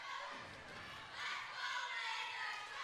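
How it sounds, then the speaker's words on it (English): Raiders fans roar from the stands at a girls varsity volleyball match against Shea, a steady crowd din that swells louder after the first second and stays high throughout. "And that is the Raiders crowd you're listening to."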